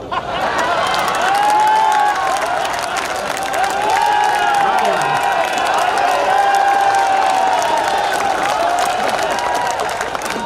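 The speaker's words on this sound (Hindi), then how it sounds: "और आप जोरदार तालियां उठाओ।" Loud, sustained applause and cheering from a large crowd at a Hindi comic poetry gathering, with steady clapping, whoops and shouts continuing throughout without a break.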